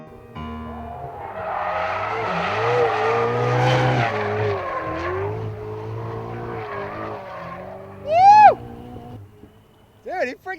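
A brand-new Ferrari 488 sports car is driven hard, its engine note rising and falling for several seconds, then its tires squeal sharply twice near the end, all loud and close.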